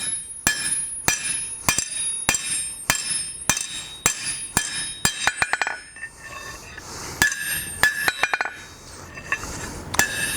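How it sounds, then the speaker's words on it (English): Sharp metallic hammer blows on hot metal ring out in a steady rhythm on an anvil while forging nuts, close and bright, then turn into quicker, irregular clinking taps. "the anvil leaves a different impact"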